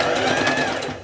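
A sewing machine stitches the waistband seam of a midi skirt on the right side of the fabric, a close, steady, rapid mechanical whir with a rhythmic needle pulse that eases off slightly at the end.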